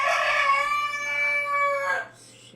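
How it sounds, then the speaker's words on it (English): A rooster crows loudly and close by in one long drawn-out call that tapers off near the end, with no talking over it. "shitty rooster"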